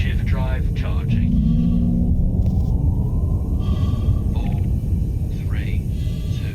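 Frameshift drive charging in Elite: Dangerous on Xbox, a steady low rumbling hum with rising and falling synthetic tones and whooshing sweeps layered over it, heard alongside clipped cockpit computer voice announcements.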